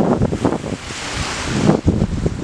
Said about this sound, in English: Y'all see the water, the waves.